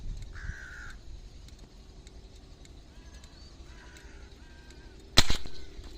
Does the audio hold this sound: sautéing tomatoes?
no